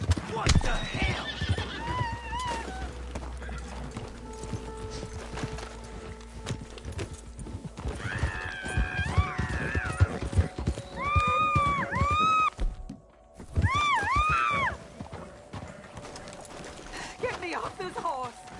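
Horses in the Red Dead Redemption 2 game neigh and whinny several times over clip-clopping hooves, the loud whinnies rising in bursts through the second half with voices talking in the background.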